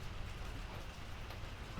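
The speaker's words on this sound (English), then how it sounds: "It is raining. I don't know if you can hear that, but it's raining quite a bit." Steady rain falling outside on a wet December day in Port Angeles, a soft continuous hiss of drops on surfaces, faint and unbroken, with no voices.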